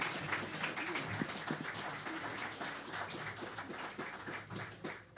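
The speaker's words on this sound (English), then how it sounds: "Big round of applause, please, for the mysterious yet reticent Mike Mullins." A crowd at an Irish traditional music gathering in St Louis applauds as a performer is welcomed on stage. The clapping is faint and distant, a soft patter of many hands that sounds almost like rain.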